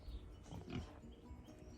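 Pigs settled in their new shelter on a family farm on Terceira Island in the Azores give soft, low grunts. The sounds are faint and somewhat muffled, peaking briefly in the middle against a quiet background.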